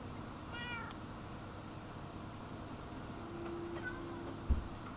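A pet cat lets out a single short, clear meow near the start, followed by faint rustling, a soft higher chirp, and a brief thump toward the end against quiet room tone.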